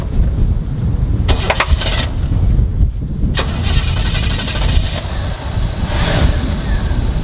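A 1968 Cadillac DeVille engine cranks and catches, then settles into a steady, loud running rumble up close with brief sharper bursts, no voices over it.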